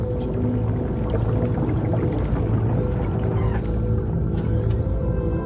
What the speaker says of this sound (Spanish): Agua hirviendo, azufre y minerales disueltos salen burbujeantes de la tierra.